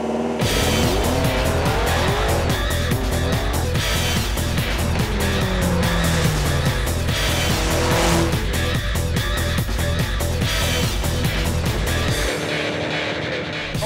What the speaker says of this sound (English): The roar of the V8, the champion of all champions.